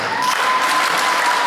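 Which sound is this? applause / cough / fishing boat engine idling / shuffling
applause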